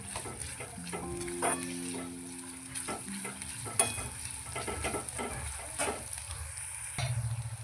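Three large onions frying in a pan for chicken pulao, a steady close sizzle with stirring scrapes and faint utensil clinks throughout, no talking.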